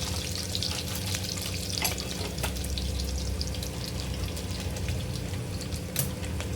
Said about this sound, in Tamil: இப்போ இஞ்சி பூண்டு பேஸ்ட் வந்து நல்லா பச்சை வாசனை போகிற அளவுக்கு வதக்கி எடுத்துக்கலாம்